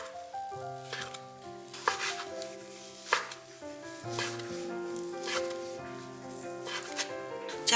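A knife slicing shiitake mushrooms on a cutting board, heard as a few sparse, sharp chops set against steady melodic background music that carries through the whole stretch.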